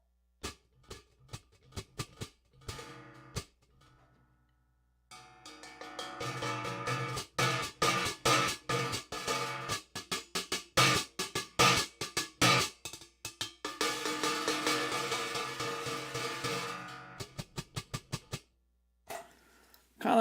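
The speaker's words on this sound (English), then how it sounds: "I wanted to make hi-hats out of our brass" Handmade brass hi-hat cymbals are struck in bursts of bright, metallic chicks and washes, some tight and choked, others ringing open, with brief pauses between runs.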